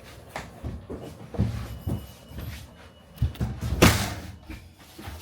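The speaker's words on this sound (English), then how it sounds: "let me close this door" A travel trailer door shuts with a solid slam after several softer knocks and thuds nearby.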